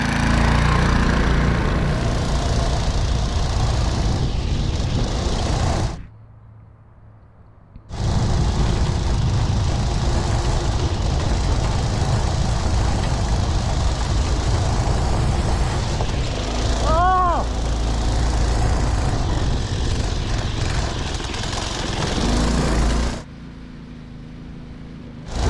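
A Manco Dingo go-kart engine running flat out for a lap, its loud, steady buzzing drone dropping away briefly and then returning, with a short horn-like tone partway through.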